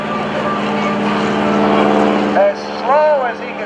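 A T-6 trainer propeller airplane flies slowly at the edge of a stall during a naval air station airshow, its engine a loud, steady, close droning roar that swells and fades slightly, with a voice briefly heard near the end.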